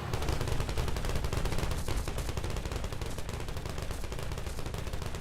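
A full rail gun firing at 20 RPM mixes with a rapid 1000 RPM top gun in a video game, dense relentless gunfire blasting nonstop at high volume throughout, with no talking.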